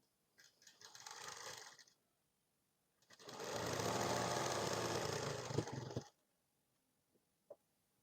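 A sewing machine stitches a 40-inch blouse up to the waist marking, running in two steady bursts, a short one and then a longer one of about three seconds, with a small click near the end.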